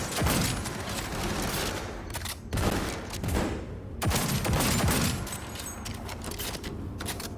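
Video-game gunfire: dense bursts of rapid automatic shots in loud, sustained volleys with brief lulls, chaotic and close, with no talk over it.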